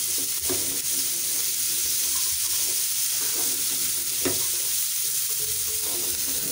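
Spiced meat fries in a very hot non-stick pan, giving a loud continuous sizzle with occasional pops and stirring scrapes, close up and with no voices.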